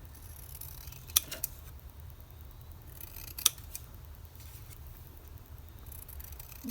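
Scissors trim a paper tag in two crisp, close snips a couple of seconds apart, over a quiet room hum with no talking.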